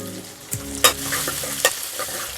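Curry leaves crackle and sizzle in hot oil with onions, shallots and chili for Tamil Nadu style sambar, a steady fry with a few sharp pops and stirring clinks, close and alone.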